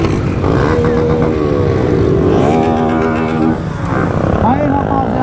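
A 160 cc motorcycle revs at a stunt-riding event in Morada Nova, Ceará, its engine whining up and down in pitch with several rising and falling sweeps, loud and close amid crowd noise and chatter.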